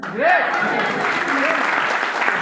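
Audience applause fills a hall during a motivational business talk, a sustained wash of clapping from a crowd with a voice speaking over it.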